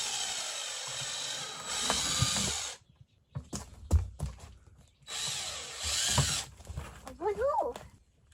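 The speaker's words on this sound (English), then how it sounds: "So we're going to drill about 6 to 8 holes in the top of our bucket here." A small drill bit bores holes into the top of a plastic bucket: two sustained bursts of close, loud drilling, separated by pauses with handling clatter and a voice.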